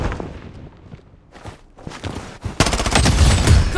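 Rapid gunfire bursts in the Blood Strike shooter game, loud and dense in the second half after quieter scattered shots and footsteps earlier.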